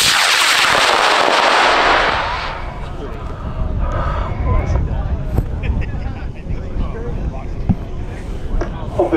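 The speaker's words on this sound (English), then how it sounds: "Ryan's rocket's going up in 5, 4, 3, 2, 1" A high power model rocket launch at a field event, with a loud roaring burst for about two seconds that gives way to a fading rumble and crackle, under a voice.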